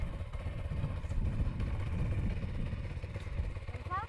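A motocross motorcycle idles with a steady mid-pitched rumbling engine note while the rider practises releasing the clutch without throttle, close and continuous, with a brief faint chirp near the end.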